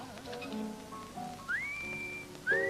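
Whistling from a film excerpt: a few short whistled notes, then a long rising tone that holds steady and another rising whistle at the end, heard over soft background music.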